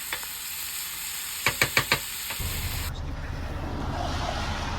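Tabasco-marinated steak frying in a pan in the back of a van, with a few quick clacks of stirring before a steady close sizzle takes over.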